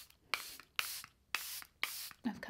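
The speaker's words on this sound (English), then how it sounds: "just spraying my Charlotte Tilbury" Four short, airy bursts of a Charlotte Tilbury makeup setting spray pumped close up at an even pace, then a brief rustle at the end.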